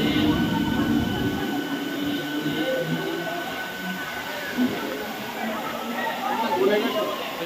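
Howrah to Midnapore local train running, a continuous loud rolling rumble and rattle of carriages, with voices talking faintly under the noise.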